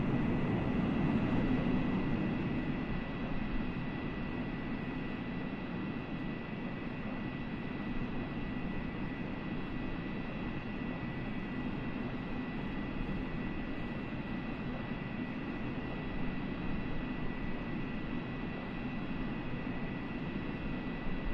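A McDonnell Douglas MD-80 airliner cruising in Microsoft Flight Simulator, a steady, unbroken engine drone and cabin hum with a low roar and faint high tones throughout.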